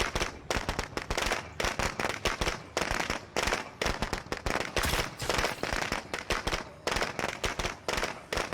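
Shooting in Path of Exile, with loud rapid bursts of shots and sharp cracks repeating in quick clusters throughout, separated by short gaps.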